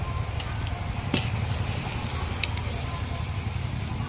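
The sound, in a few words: moitha dumplings frying in oil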